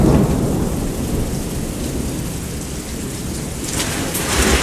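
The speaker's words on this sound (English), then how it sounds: "Always raining." Steady heavy rain in Washington pours throughout with deep thunder rumbling underneath, loud and continuous, with no voices.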